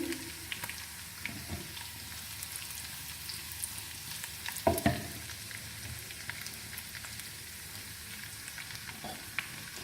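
Soft, steady sizzling of large red chilies frying in hot oil for a tempering, with occasional crackles and a few clinks, and no talking.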